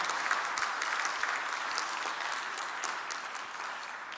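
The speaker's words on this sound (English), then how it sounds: "Might we honour him with a round of applause as he makes his way onto the stage." A conference audience at an Africa trade gathering applauds steadily as a South African minister walks to the stage, a continuous wash of clapping heard from a distance that eases slightly toward the end.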